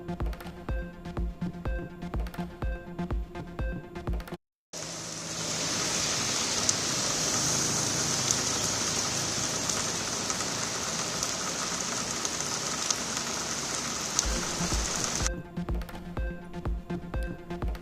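Steady heavy rain falling across Chennai city and suburbs in the early morning, a dense continuous hiss that runs alone for about ten seconds between stretches of news music.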